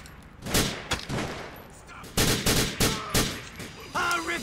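Gunfire in GTA The Lost and Damned: a run of sharp, loud shots, single and in quick pairs, spaced unevenly over a few seconds and close at hand.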